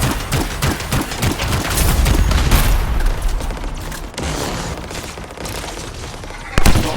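Rapid turret gunfire in the video game Anthem, dense bursts of shots and booms, loud and continuous, easing slightly before a final sharp blast.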